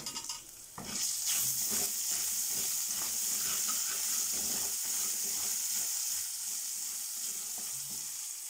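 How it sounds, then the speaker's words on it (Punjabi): Cumin seeds with crushed ginger and garlic sizzle and crackle in a hot pan for an Indian broccoli and potato sabji, a steady close frying hiss that swells as the pan is stirred. "ਇਹਨਾਂ ਨੂੰ ਆਪਾਂ ਭੁੰਨ ਲੈਣਾ ਹੈ ਪਹਿਲਾਂ।"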